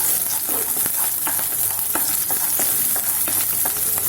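About a tablespoon of garlic is stirred and fried in a pan for rice-flake sweet balls, a constant loud sizzle with repeated scraping taps of the spoon, close and without talk.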